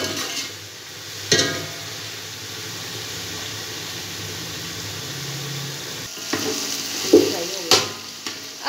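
Garlic-ginger paste frying in a pot for Sindhi pulao, a steady close sizzle with scraping spoon strokes and a few louder clanks toward the end.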